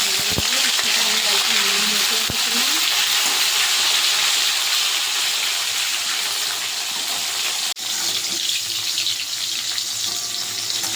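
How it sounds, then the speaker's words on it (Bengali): Bitter gourd frying in hot oil in a wok, a loud, dense, continuous sizzle that stays close and steady the whole way through. "উচ্ছেটাও প্রায় ভাজা হয়ে গেছে, আর একটু ভেজে তুলে নেব।"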